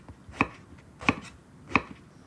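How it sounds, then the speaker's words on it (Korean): A knife chops an eggplant into large chunks on a cutting board, landing three crisp, evenly spaced thuds up close with quiet pauses between and no voices. "가지를 큼직하게 삐뚤빼뚤 썰어주세요"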